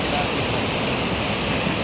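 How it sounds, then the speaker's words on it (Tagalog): A strong river rushes past large rocks near a hot spring resort in Esperanza, South Cotabato, in a loud, continuous roar of turbulent water, close by and steady throughout. "Ang lakas na agos na ilog."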